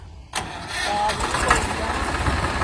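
A tractor's diesel engine cranks and catches, then settles into a steady rumbling idle close by.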